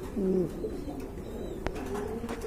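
Pigeons sold as a running breed give a soft, faint coo near the start, followed by quiet background noise and a brief knock.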